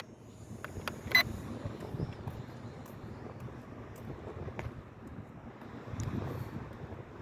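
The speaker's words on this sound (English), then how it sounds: "Yeah, it's just too freaking windy" Strong wind by the sea buffets the microphone in a steady low rumble, with gusts swelling around the middle and again near the end, plus a few brief sharp knocks; no one speaks.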